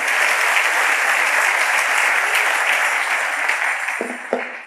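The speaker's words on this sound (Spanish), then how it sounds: "Dale un aplauso al Rey bendito" A church congregation applauds a blessed King during a sermon, a dense, steady wash of many hands clapping that holds for several seconds before thinning out near the end.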